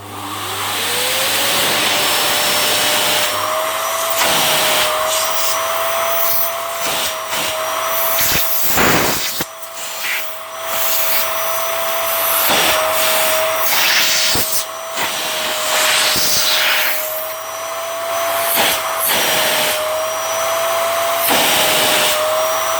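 Miele Dynamic U1 upright vacuum cleaner runs its suction in a loud, continuous whine with a steady pitch, broken by brief dips and bumps as the hose or nozzle moves.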